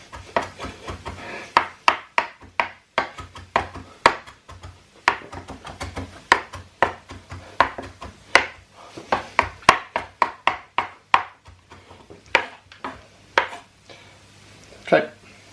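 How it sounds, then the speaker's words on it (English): A knife finely dicing food on a chopping board for sausage meat and caramelized onion stuffing balls, close, steady rapid knocks in an uneven rhythm running throughout. "we want this to be as finely diced as possible"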